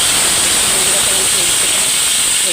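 Panch phoron spices sizzle in hot oil in a kadai, a loud, steady, bright hiss that continues without a break for a couple of seconds.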